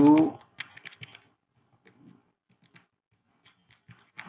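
Light clicking of typing on a computer keyboard while entering a chart title in an Excel spreadsheet, a quick scattered run of soft keystrokes after a short burst of speech, then sparse taps.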